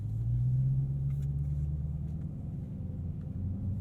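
Dodge Challenger Hellcat Black Ghost supercharged engine idling as it slips into drive and pulls away, a steady deep low rumble that holds loud and close throughout, with no talking over it.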